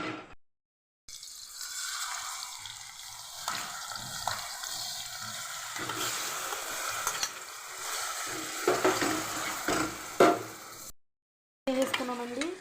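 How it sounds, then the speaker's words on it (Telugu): Small chicken pieces sizzle and crackle in hot oil in a pan for fried rice, a steady close frying hiss with occasional stirring clinks, cut by brief silent gaps near the start and end. "ఇందులో చికెన్ ఫ్రై చేసుకుందాము."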